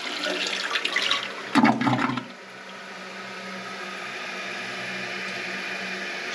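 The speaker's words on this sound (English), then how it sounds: "Let's see if it does a good flush." A toilet fitted with a Fluidmaster Universal Performax fill valve flushes in a short, loud gurgling rush, then settles into a steady, quieter hiss as the tank refills.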